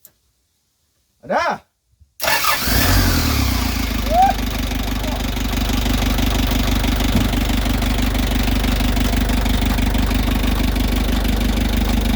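A loud Hino truck engine idles steadily with a low, rumbling throb after a brief start-up, running continuously and close by.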